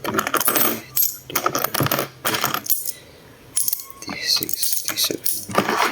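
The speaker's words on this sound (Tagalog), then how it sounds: "bilangin na naman natin yung barya" Coins from a piggy bank clink and drop in bursts of metallic jingling as they are counted by hand, with short pauses between handfuls, heard up close.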